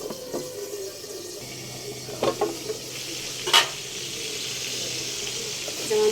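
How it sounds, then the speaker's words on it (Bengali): Hilsa fish is fried with spices in a pan, a low steady sizzle with a few spatula scrapes and clinks, one sharper metallic knock standing out midway. "এখন আমি মশলার সাথে যে মাছটা কষিয়ে নিব"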